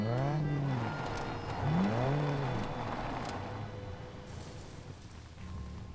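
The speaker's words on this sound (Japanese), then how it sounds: "バイクの音したやんな。" Motorbike engine in the video game SCUM, a loud droning rev with rising and falling pitch sweeps that repeat a few times, then settles into a steady rough hum, alone without talk.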